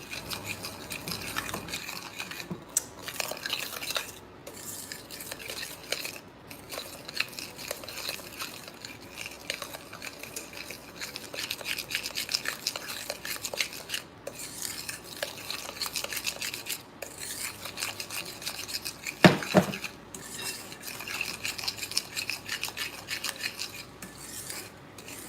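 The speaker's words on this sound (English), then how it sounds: "we're stirring in the egg yolks right now" Egg yolks being stirred into strawberry thumbprint cookie dough in a bowl, giving a steady close scraping and rubbing of the utensil against the bowl with no talking.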